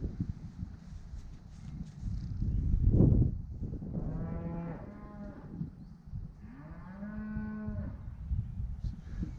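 Several cattle moo in two long, loud calls on a farm, with cows being gathered for fluke worm drenching; a lower rumbling bellow comes first and wind and handling noise sit underneath.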